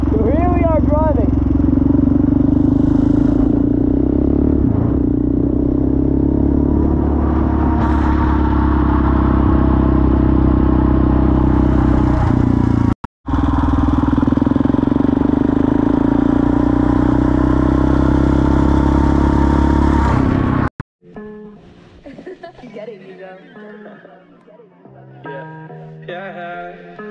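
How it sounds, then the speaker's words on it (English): A Suzuki quad is driven at night, its engine droning steadily and loudly with shifting pitch for about twenty seconds, briefly cut out once, before music takes over. "right now, we're going to be driving a Suzuki in the dark"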